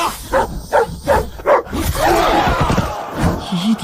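Dogs snarl, growl and bark in a fight, several rhythmic barks followed by a continuous aggressive snarling rumble, loud and close, heard alone.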